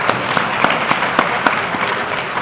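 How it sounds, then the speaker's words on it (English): Audience applause for the chairperson, His Lordship Justice Kwesi Eninyebua, at the 150th anniversary commemoration of the Sagrenti War in Ghana, steady clapping with sharp individual claps standing out. "Please, a round of applause."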